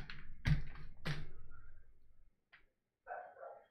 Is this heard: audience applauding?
no